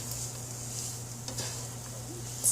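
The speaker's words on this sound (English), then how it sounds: "It is rice in a frying pan." Steady, soft sizzling of rice frying in a pan, with faint stirring scrapes and a constant low hum underneath.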